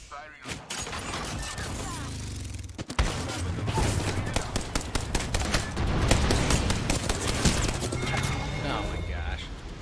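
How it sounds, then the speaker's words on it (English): Bursts of rapid gunfire crackle through an Apex Legends firefight, with dense volleys and sharp single shots, a sudden loud burst just before three seconds, and sustained shooting after it, while a voice talks over much of it. "Listen up, I'm getting shot at."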